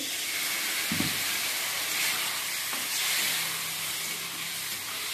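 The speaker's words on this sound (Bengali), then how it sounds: "এবারে সামান্য একটু জল দিয়ে দিচ্ছি" Splash of water hitting frying spiced vegetables with green chilli and salt in a pan, a loud continuous hissing sizzle with steam rushing, close up, one brief clatter near the start and no talking.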